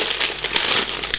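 Plastic bags crinkling and being torn open up close, a dense run of rustling and crackling with no talking.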